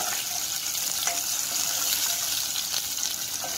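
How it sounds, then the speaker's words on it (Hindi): Soy sauce poured into a pan of sautéed chilli and garlic, heard as a steady close-up sizzle and liquid hiss that runs throughout without talk. "अब हम इसमें डालेंगे सोया सॉस जो है 2 टेबलस्पून"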